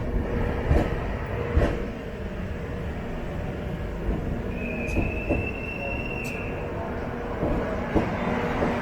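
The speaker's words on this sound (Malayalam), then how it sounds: "മറ്റൊരു LHB ട്രെയിൻ തന്നെയാണ്." An LHB passenger train passing a station platform gives a steady, loud rolling rumble, with occasional wheel clacks and a brief high metallic squeal partway through.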